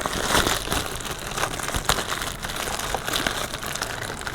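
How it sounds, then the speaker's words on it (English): A plastic bag being ripped open to unpack car wind deflectors, with bursts of crinkling and tearing plastic through the clip, fairly close and loud with no talking. "so I'll just rip the plastic bag"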